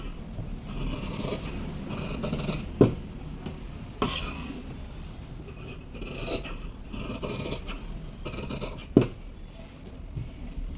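Scissors cutting cloth for a blouse, a quiet, rhythmic series of rasping snips and dragging scrapes on fabric with a few sharper clacks of the blades, close and soft with no one speaking.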